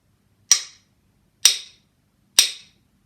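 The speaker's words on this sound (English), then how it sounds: "I'm going to bang my jar, and I want you to close your eyes and tell me how many bangs you heard." A jar is banged three times at an even pace, each a sharp, loud, close knock that dies away quickly into near silence between strikes.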